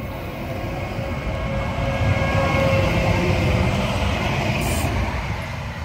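A tram rumbles past at Carbrook, a broad steady roar of wheels and motor that swells to a peak midway and then eases, fairly close with no clear speech.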